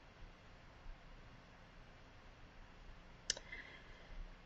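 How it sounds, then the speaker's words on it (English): A single computer mouse click on an update button, one crisp tick near the end against a quiet background hiss. "I'm going to scroll up here and click update"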